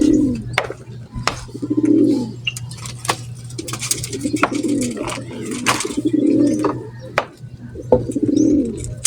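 Racing pigeons coo in a loft in repeated low rolling phrases, close and loud, over a steady hum with scattered taps and rustling; no one speaks.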